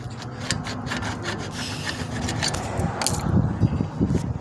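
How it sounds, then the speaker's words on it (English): Old brake pad pulled from the front caliper of a 2010 Chevrolet Camaro: close, steady rubbing and scraping of metal on metal, with a few sharper clicks and knocks toward the end. "you can pull the old brake pad, slides right out of there"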